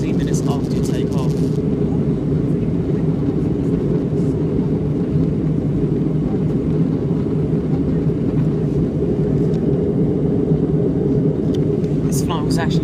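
Inside the cabin of a Lufthansa Airbus A320-211 descending through clouds toward Frankfurt, a constant loud low roar and rumble fills the space, unbroken throughout, with a few faint brief clicks near the start and end.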